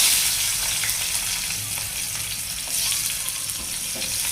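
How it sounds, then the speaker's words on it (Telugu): Onions fry in hot oil in a pan, producing a dense, continuous close sizzle with small crackles and no talk. "ఆనియన్స్ వేస్తున్నా."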